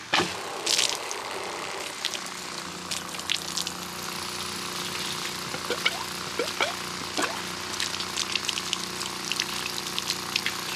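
A small 12V RV fresh water pump whirs steadily in a jug of water, with constant gurgling and occasional splashes close by.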